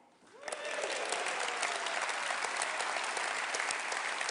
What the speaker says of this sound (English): Maybe, Shafak, you could start the applause again.